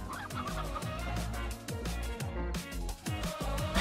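Chickens cluck in a Slime Rancher ranch pen, repeated bursts over a dense, loud game soundtrack that runs throughout.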